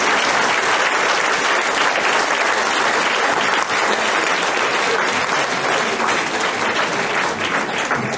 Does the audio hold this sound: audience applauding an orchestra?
yes